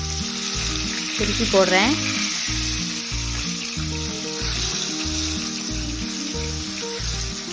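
Fish for a Tamil meen polichathu frying in hot oil in a pan gives a loud, continuous close-up sizzle with rhythmic pulsing crackles, while a voice speaks briefly over it.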